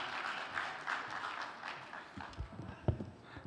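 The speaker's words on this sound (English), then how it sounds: "Let's give him a live round of applause" Applause from a panel event audience welcoming an organizer to the stage, a faint, distant patter of clapping that rises and thins, with a few sharper knocks near the end.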